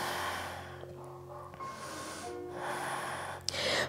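Slow breathing during a yoga pose held for two breaths, soft drawn inhales and exhales close to the mic, with a sharper breath near the end and no talking.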